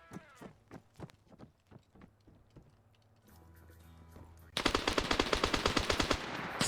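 Rapid bursts of DT machine gun fire in a WW2 shooter game, starting as spaced crisp shots and then a loud sustained volley near the end, with mechanical clatter in between.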